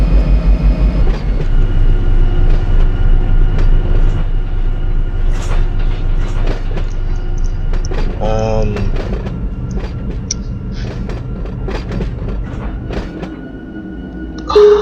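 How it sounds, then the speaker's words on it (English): Train running in the Run8 train simulator game, with a steady low engine rumble and horn-like tones, a stretch of clicking and squealing partway through, continuous and fairly loud with no voices. "Where is this train stopped at?"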